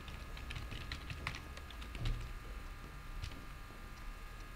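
Typing on a computer keyboard while filling in a spreadsheet: quiet, irregular clusters of key clicks over a steady low hum, no voices.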